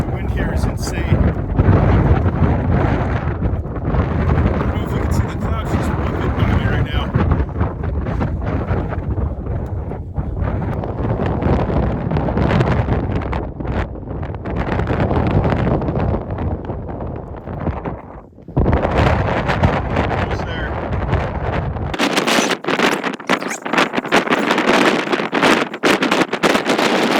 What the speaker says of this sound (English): The wind here is insane.